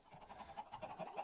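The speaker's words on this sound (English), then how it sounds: "Oh, yes, chickens, by the way. Yeah, they're freaking everywhere now." Chickens in the Minecraft-style game Islandcraft cluck in a quick run of soft, repeated clucks that stay faint and close together, with no talking over them.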